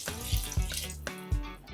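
Water and coconut milk sloshing into a pot of Jamaican Ital vegetable curry with sweet potato, a steady close pour broken by several soft splashy thumps.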